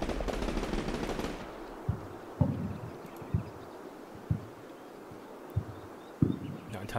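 Machine gun fire in the video game Combat Mission Shock Force 2, with an opening rattling burst followed by scattered single distant reports against a low ambient rumble.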